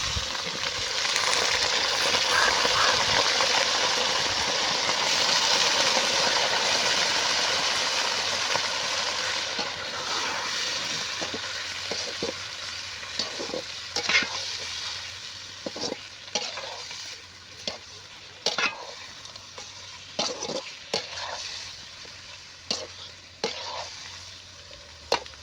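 Chicken sizzles loudly in a pan for Tamil uppu kari, with a dense frying hiss early on giving way to sharp scraping stirs that repeat irregularly as the sizzle fades.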